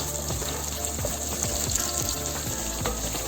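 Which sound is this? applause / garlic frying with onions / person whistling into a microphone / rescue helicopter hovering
garlic frying with onions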